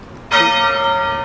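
A single loud church bell of Holy Trinity Church, Holmfirth, strikes and rings on, its metallic tone sustaining and slowly fading.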